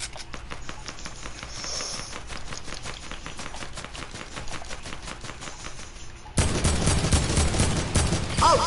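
Rapid video game gunfire rattles in a steady automatic stream of evenly spaced shots, then a louder, harsher barrage takes over for the final seconds.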